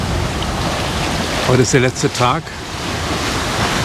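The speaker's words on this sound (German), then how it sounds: "heute am 19. Tag hat sich das Wetter beruhigt, die Wellen sind ruhiger geworden" Ocean waves wash steadily around a sailboat running at seven to eight knots on the North Atlantic in calming weather, a broad continuous surf-like rush under a brief spoken phrase in the middle.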